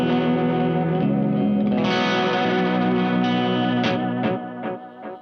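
An electric guitar through a Crazy Tube Circuits Mirage delay with modulation sustains a loud, shimmering chord wash, then sharp repeated picks echo as the wavering tail fades toward the end.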